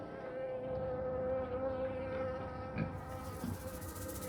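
Culex mosquitoes, wild mosquitoes that breed in standing water, buzz in a steady, close hum that continues without a break and has no voices over it.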